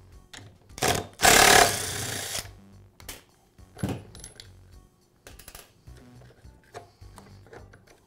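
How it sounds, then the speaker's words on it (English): An impact driver removes the reverse-thread impeller nut on a Husqvarna blower: a loud burst of rapid hammering lasting about a second, surrounded by scattered clicks and metallic handling of tool and parts. "I'll use an impact driver to remove it."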